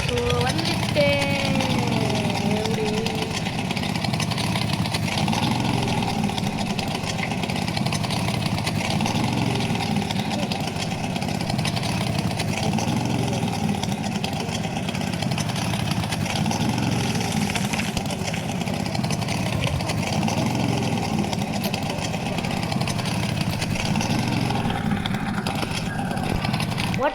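A car engine idles steadily at a school party, a continuous loud mid-low rumble that runs the whole time, with people talking over it nearby.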